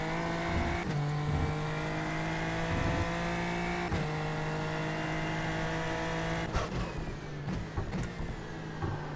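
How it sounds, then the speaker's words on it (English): A single-seater race car on a flying lap, sounding like an F3 car, drones at high revs with steady engine tones, brief dips at gear changes and sharp rises as it accelerates, heard continuously and close. "It sounds just like an F3 car."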